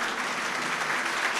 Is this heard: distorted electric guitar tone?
no